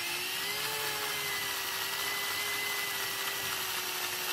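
A step drill bit bores into a cheap plastic box with a continuous high whine and steady grinding, close and unbroken for a few seconds, no talking.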